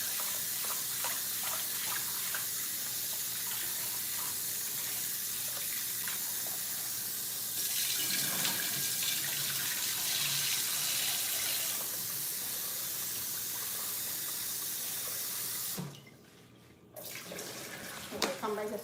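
Rice rinsed under a steadily running kitchen tap, a continuous broadband rush of water that lasts throughout, with a brief dip and change in flow near the end as the rinse water is tipped out.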